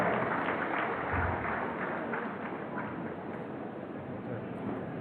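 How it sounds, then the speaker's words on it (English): An audience applauds steadily at a university Faculty of Pharmacy oath-taking and induction ceremony, a dense wash of clapping from many hands that holds at an even level throughout. "This is a round of applause for our registrar."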